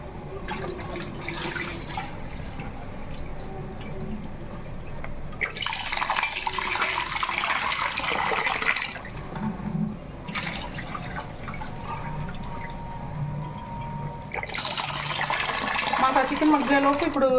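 Basmati rice is rinsed under running water, with about three separate bursts of splashing tap flow and quieter stretches of dripping and handling between them. A voice talks at times.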